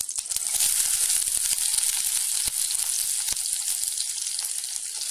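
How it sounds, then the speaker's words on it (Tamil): Dried chillies with crushed pepper and cumin sizzle and fry steadily in a pan, a dense continuous crackle at close range with no voices. "சேர்த்துட்டு இதை ஒரு 2 நிமிஷம் வதக்கி எடுக்கலாம்."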